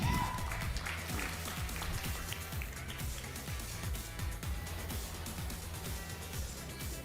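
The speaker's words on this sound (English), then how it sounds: "Clapping won't kill you." Audience clapping at a tech conference panel on European fintech, a continuous moderate wash of applause from a crowd with a low rumbling hum beneath it.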